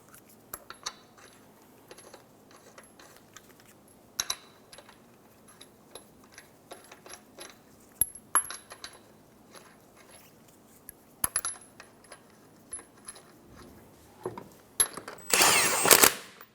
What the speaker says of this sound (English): Install your wheel. And start your 5 lug nuts by hand.